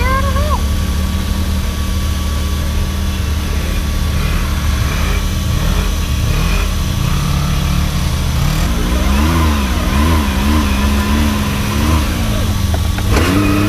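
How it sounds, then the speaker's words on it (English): A pickup truck engine drones and revs repeatedly in winter snow, its pitch swinging up and down in wavering bursts under a loud steady engine rumble, with voices talking over it. "Where's this pickup truck going? Maybe he's stuck here?"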